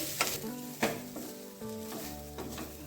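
Grated coconut stirred and frying in a pan for an onion gravy, a soft close sizzle broken by several scraping strokes of a spoon against the pan.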